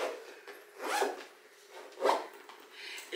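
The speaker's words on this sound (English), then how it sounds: "and it zips up." A zipper runs along a lightweight travel makeup bag from Temu, with two distinct close, soft rasping strokes about a second apart against a quiet background.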